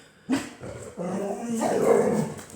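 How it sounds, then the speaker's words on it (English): Several dogs bark and growl close by, a sharp burst followed by rougher, grumbling snarls and yips that build toward the end. "Dogs are all heading out the door."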